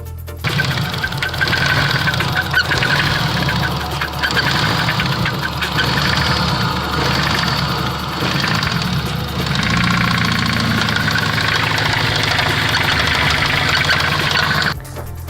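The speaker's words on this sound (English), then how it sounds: "I'm gonna play a clip of how the K20 A2 motor was sounding right when the oil pump went out." Turbocharged Honda K20A2 engine in an RSX, knocking after its oil pump failed: a loud, close, continuous running note with a rapid metallic tapping throughout that shifts slightly in pitch midway and cuts off at the end.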